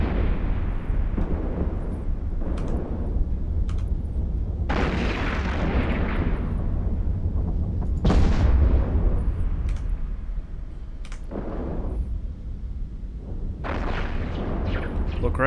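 Missiles launching and bursting against a citadel in EVE Online, a run of heavy booming explosions that swell and decay one after another over a constant low rumble, loud and close throughout.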